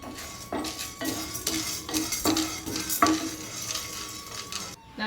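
Chana dal roasting in a pan while being stirred, with repeated scraping and clinking strokes of a spoon against metal over a steady low sizzle, close and fairly loud, no voices.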